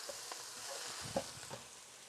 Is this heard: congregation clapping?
no